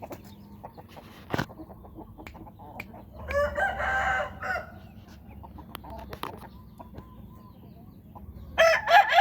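A Thai fighting rooster crows in a short burst, then crows again more loudly near the end, with scattered clucks and farmyard knocks between calls.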